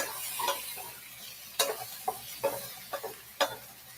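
Eggplant frying in hot oil in a home kitchen, with soft sizzling and several sharp clattering taps of a utensil against the pan, fairly close and without talk.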